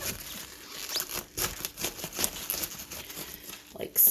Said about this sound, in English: You just want to cut around that core